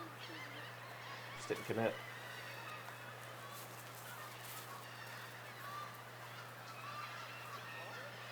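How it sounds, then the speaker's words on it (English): Canada geese honk at Langan Municipal Park, a brief cluster of calls rising over a steady background hum, with a voice speaking faintly nearby. "There are a lot of Canadian geese at Langan Municipal Park."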